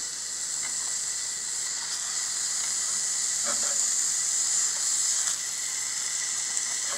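Onions frying in a hot pan for mangú, a steady close hiss of sizzling oil with a few faint clicks of utensils, and no voices over it.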